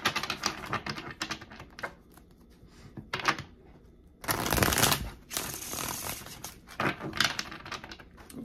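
Tarot cards being shuffled by hand, close riffling and flicking in several uneven bursts, one longer loud riffle in the middle, with no speech.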